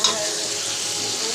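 Turmeric, chili, ginger and garlic sizzle steadily in hot oil while being stirred in a pan, a continuous close frying hiss without breaks.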